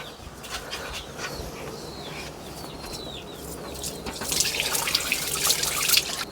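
Water being poured off settled arrowroot starch in a container, a trickling, splashing pour that grows louder toward the end, with faint birds and a dog in the background outdoors.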